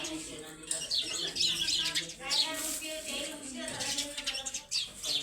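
Small birds chirp and tweet in quick, repeated bursts nearby, their bright calls running on and off throughout while people talk.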